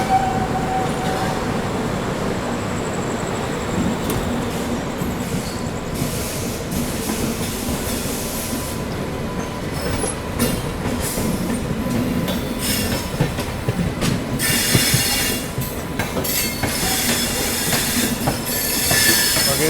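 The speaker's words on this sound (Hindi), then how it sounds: "इस और से भी सेंट्रल में कोई गाड़ी अराइवल ले रही है।" Trains arriving at Kanpur Central railway station, with steady rolling rumble, wheel squeal and scattered metallic clatter from passing cars throughout, loud and close, with no voices.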